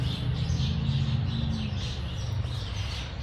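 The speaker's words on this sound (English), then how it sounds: "the birds sound so beautiful" Soft, high chirps and twittering birdsong repeat throughout over a steady low rumble of background noise, moderately distant.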